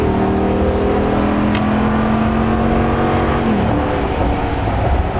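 A 2017 Ram Rebel pickup with a V8 Hemi engine revs loudly and steadily up close, its deep rumble holding a rising harmonic whine before easing off near the end.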